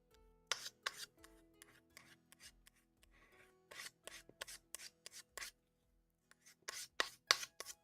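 A spoon carving knife is drawn across a high-grit sharpening plate in short rasping strokes, some in quick pairs and clusters, with brief pauses between them, close and fairly quiet with no speech.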